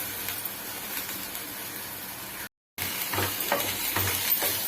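Vegetables with peas, carrot, tomato and mint sautéing in a pan for veg pulao, a continuous close sizzle with a brief cut to silence midway, then soft stirring scrapes.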